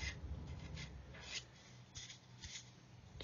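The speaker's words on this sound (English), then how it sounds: "I can get my knife. I use the curved blade this time, and I can just literally, using the weight of the knife, just rub around there" Curved hobby knife blade scraping Mr. Surfacer filler along a seam on a 1/144 Revell Saturn V plastic model, a soft dry rasping rub in short repeated strokes, close and quiet.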